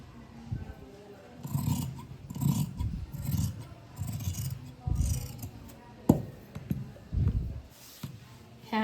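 Scissors snipping through fabric for lehenga sleeves at a boutique cutting table: a series of crisp, close, rhythmic cuts with short pauses, under soft speech.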